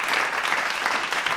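A short burst of recorded crowd applause played as a sound-effect drop on a comedy podcast, dense and even clapping throughout, fairly quiet, with no voices on top.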